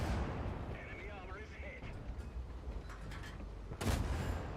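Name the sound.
tank gun firing in World of Tanks video game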